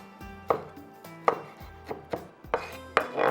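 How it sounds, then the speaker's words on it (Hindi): Green chillies are chopped finely with a knife on a board: around eight sharp, close taps in an uneven rhythm, with no talking. "अब हम हरी मिर्च को चॉप कर लेते हैं।"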